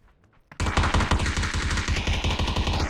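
Rapid automatic gunfire, probably a Bison, in a competitive PUBG esports match, bursts in after a brief quiet start and hammers on as a loud, fast, evenly spaced stream of shots to the end.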